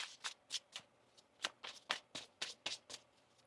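Soft, quiet riffling of a tarot deck being shuffled close up, a quick series of papery flutters with no voices.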